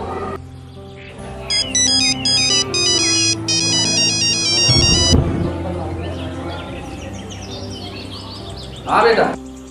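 A phone rings with a bright electronic ringtone melody in repeated bursts while calling dad, followed by a low thump and faint voices, then a short louder burst near the end.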